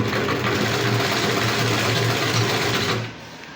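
A sewing machine runs steadily just after being rethreaded, a close, continuous mechanical whir with a rapid stitching rhythm for about three seconds before it cuts off and the sound drops away.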